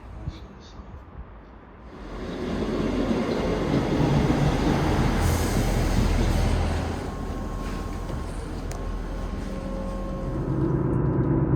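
Steady rumble of a passenger train in motion near Wigan Walgate, heard from inside, swelling louder for a few seconds then settling into a continuous rolling drone.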